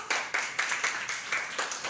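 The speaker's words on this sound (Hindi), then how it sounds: "ताली बजाओ।" Schoolchildren in a third-grade classroom clap for a classmate who answered a question, a brisk, even run of claps at moderate volume with no talking over it.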